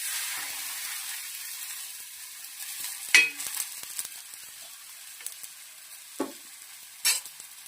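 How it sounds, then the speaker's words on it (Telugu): Bakshalu, a sweet stuffed flatbread, fry in hot oil on a pan over a gas stove, giving a steady close sizzle broken by a few sharp pops and scrapes. "ఇప్పుడు మనం ప్రిపేర్ చేసుకున్న భక్ష్యాను పెనంపై వేసుకుంటున్నా"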